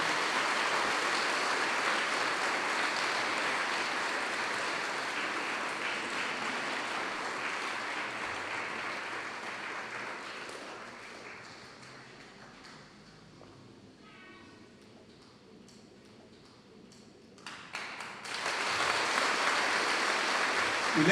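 Congregation in a Nicaraguan parish church applauding their priest during a Marian jubilee: sustained dense clapping fills the first half, fades to a quieter lull, then a fresh burst of clapping swells again near the end.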